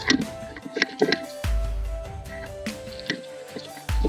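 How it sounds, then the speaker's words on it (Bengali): Red ant chutney (kurkut) is ground by hand with salt and chillies, giving irregular wet squishing and scraping strokes with small clicks, close up and alone without talk. "লবণ দিয়ে নিচ্ছি, এখন বেটে নেব। তো বাটছি"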